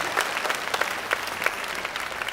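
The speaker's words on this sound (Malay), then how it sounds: "Sama-sama kita berikan tepukan paling gemuruh untuk anak-anak pelajar kita yang hebat." Audience applause for school students at a national-level closing ceremony of a Quran recitation competition in Perlis, a steady patter of many hands clapping throughout, moderately loud and without talk.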